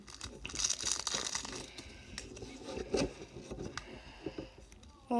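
Close crinkling and tearing of packaging, with scrapes and rustles as a Pokémon Team Up box is worked open with scissors, quiet and uneven throughout.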